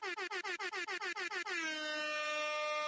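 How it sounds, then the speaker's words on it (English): A loud air horn fires in about a dozen rapid stuttering bursts, then holds one long sustained blast to the end, with no voices. "I'm gonna give y'all a little bit of air horn."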